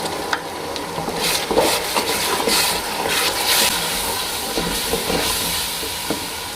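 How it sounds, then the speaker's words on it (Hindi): Tomato paste hitting a hot pan for Lahori chikar cholay, giving a steady, loud sizzle and hiss with stirring scrapes running throughout, no voices. "अब ये टमाटर का पेस्ट शामिल कर दें।"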